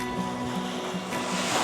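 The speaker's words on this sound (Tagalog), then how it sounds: "Ay, ang lakas ng alon." Strong ocean waves break against the stony shore of small Guyam Island off Siargao, a steady loud wash of surf with wind, heard close and continuous without talk.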